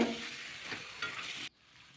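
Fried chicken pieces stirred with spices in a pan for a desi chicken curry, a close busy sizzle and scraping that cuts off abruptly near the end.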